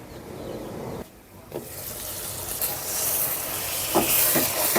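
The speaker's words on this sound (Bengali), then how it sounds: "মুড়ি মাংসটা দিয়ে এটাকে আমি ভালো করে কষিয়ে নেব এই মশলার সাথে" Chicken pieces frying with spices in a covered pan, a soft hissing sizzle that dips briefly, then swells louder with occasional stirring clinks.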